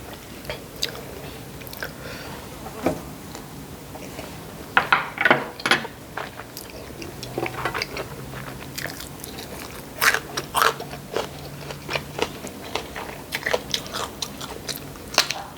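Someone eats canned fish with ground chili, a fried egg and fresh vegetables, with close, irregular bites, crunches and wet chewing, plus occasional light clinks of cutlery on a dish.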